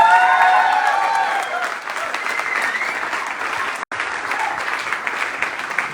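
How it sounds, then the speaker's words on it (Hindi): Sustained audience applause at a business meeting, a dense wash of clapping from a large crowd that carries on steadily for several seconds with a momentary dropout. "एक बार ओम प्रकाश सर के लिए जोरदार तालियां।"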